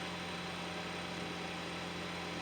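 A Ford Escape engine that had been misfiring on startup and has its coolant warning light on idles steadily up close, a continuous low hum with no voices.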